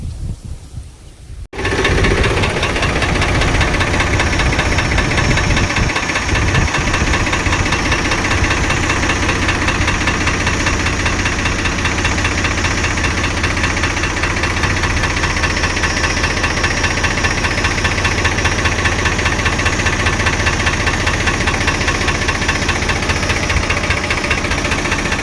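A tractor engine idles steadily in a cotton field, a loud continuous rumble that starts after a brief quiet moment and holds without letup.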